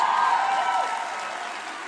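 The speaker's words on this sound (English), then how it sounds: "who deserves a round of applause" A short burst of crowd applause at a Turning Point USA event fades gradually over about two seconds, steady clapping without voices.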